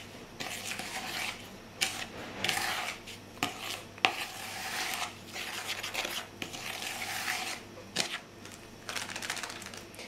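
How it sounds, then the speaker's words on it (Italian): Cake batter with sugar and cocoa is stirred in a bowl, giving close, irregular scraping and clinking strokes of a utensil against the bowl with brief pauses between them. "Mescoliamo bene."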